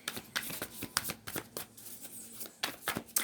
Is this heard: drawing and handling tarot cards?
yes